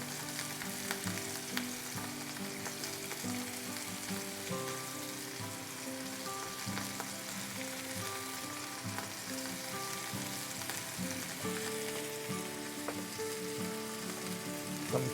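Pork chops sizzling on a grill, a loud, steady crackle and hiss that keeps going throughout, with faint pops and no talking.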